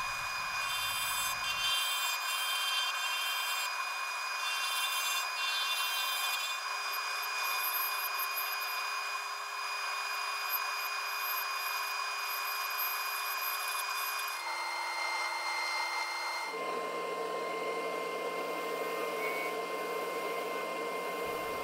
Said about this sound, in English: we can start turning the pen to shape.